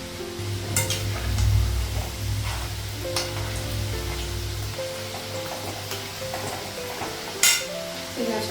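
Pitha cakes frying in oil in a pan on a gas stove, soft sizzling under clinks and scrapes of a utensil against the pan, with a low hum and a sharp metallic clink near the end.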